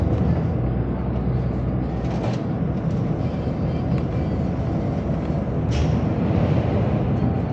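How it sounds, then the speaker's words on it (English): A large vehicle approaches and passes a Dennis Dart bus pulled in on a Pennine road at night, a steady low rumble of engines and road noise throughout with a brief whoosh as it goes by. "That is actually a big vehicle that's coming."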